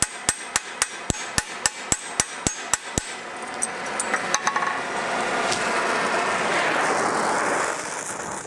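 A blacksmith hammers a rivet on an 18th–19th century style toaster: about ten sharp, evenly spaced metal blows ring out close up, then a few lighter taps fade into a steady roaring hiss, likely from a forge.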